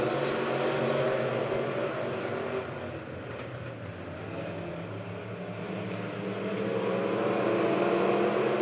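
Dirt track race cars, B-Mods and Midwest Mods, roar steadily around the Monett Motor Speedway oval, a continuous loud engine drone that dips slightly midway then swells again, with no talk.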